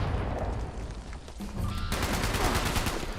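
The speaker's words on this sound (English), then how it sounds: "That 50 cal shredded me!" Heavy .50 caliber machine gun fire in Fallout 76 rips in a dense, continuous burst, with rapid overlapping shots that grow louder and harsher partway through.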